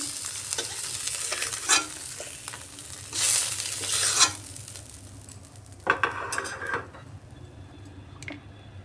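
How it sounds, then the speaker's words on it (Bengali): Oil sizzles steadily as fish fries lightly in a kadai, with a few sharper crackles and bursts of spattering rising and fading over the constant hiss. "মাছ বেশি কড়া করে ভাজছি না, একটু হালকা করেই ভাজছি মাছগুলো"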